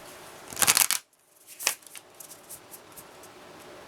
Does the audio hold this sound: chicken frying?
no